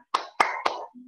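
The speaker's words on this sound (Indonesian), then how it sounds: "Tepuk semangat dua." Three quick sharp hand claps in a rhythmic cheer pattern, from children following a teacher, close and clear, followed by a brief low tone at the end.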